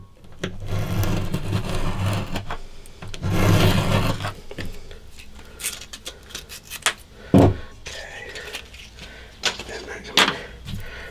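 Sanding block with a matching radius on both faces rubbed along a guitar fretboard, giving scratchy back-and-forth strokes, a long heavy pass early, then shorter scattered rubs and knocks, close up with no talking.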